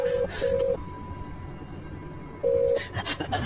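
Three short electronic dialing tones beep in quick succession as a phone calls the police from the Banaras–Mirzapur highway, followed by a steady faint tone, then rustling and handling noise close by.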